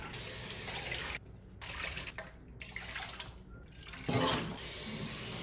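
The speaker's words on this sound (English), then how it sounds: "I'm gonna squeeze out all the excess water." Water runs and splashes as a wig is washed in a sink and squeezed out. The sound is broadband and fairly loud, with short pauses and a burst of heavier splashing near the end.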